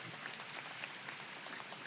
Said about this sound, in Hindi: ताली ढंग की बजनी चाहिए, पता चल रहा है?